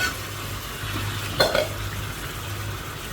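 Boiled jackfruit seeds fry in a pan with a steady, close sizzle and stirring, broken by a brief clatter of utensil on pan partway through.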